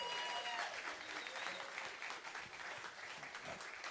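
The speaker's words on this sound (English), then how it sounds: "Give Adam another big round of applause" Steady applause from a live audience at a farm-and-fun livestream show, many hands clapping together in a dense, continuous wash that holds at full strength for the whole stretch.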